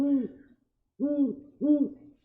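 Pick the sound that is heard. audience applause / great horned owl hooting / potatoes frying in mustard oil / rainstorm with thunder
great horned owl hooting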